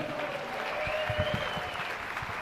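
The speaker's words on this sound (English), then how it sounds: "let's have a round of applause for them" Soft, distant applause from spectators at a livestock show, a thin patter of clapping under a faint tonal hum and low thumps.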